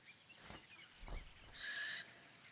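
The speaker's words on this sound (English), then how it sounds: "A barn owl is searching for new hunting grounds" A barn owl calls in cold weather, with a couple of soft low hoots followed by a brighter, harsher call lasting about half a second, close and fairly faint against quiet surroundings.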